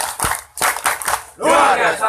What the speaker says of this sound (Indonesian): 10 kali aja tepuk tangan kayak gini enak